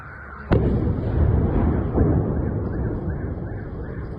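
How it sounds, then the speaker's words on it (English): Secondary detonations of stored ordnance at Russian armor warehouses, heard from a distance: a sudden loud boom followed by a rolling rumble, then a second blast about a second and a half later under continuing roar. "Russian armor warehouses were hit, leading to multiple secondary detonations of the stored ordnance"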